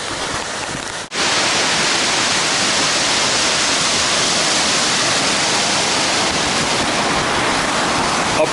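Waterfall roaring on a mountain hike at about 2,000 meters altitude, a dense, steady broadband rush heard close and loud, briefly dipping near the start and then holding unbroken.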